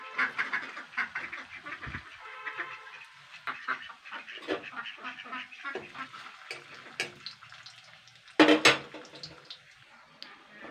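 Semolina sweet balls deep-frying in refined oil, a crackling, bubbling sizzle that swells and fades with spurts of sharper spitting, while a person talks intermittently over it.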